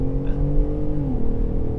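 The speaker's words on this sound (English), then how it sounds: "let's try a 0-60" A 2021 Ford F-150 Raptor with 37-inch tires pulls hard from a standstill toward 60 mph in sport mode, its engine droning steadily with a rising tone and no talk over it.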